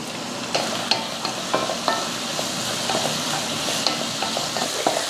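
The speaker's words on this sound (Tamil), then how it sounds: "அவ்வளோதான் பாருங்கள், தக்காளி வந்து நல்லா வதங்கிருச்சு." Chopped tomato and onion fry in hot oil in a pan, giving a steady close sizzle with soft stirring scrapes and clicks throughout, no voices.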